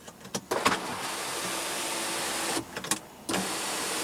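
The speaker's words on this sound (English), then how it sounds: "we also do have a panoramic sunroof with a sliding shade." A 2016 BMW X3 2.0 L turbo four-cylinder's panoramic sunroof shade slides on its electric motor, giving a smooth sustained whir inside the quiet cabin, bracketed by short clicks and bumps at start and stop.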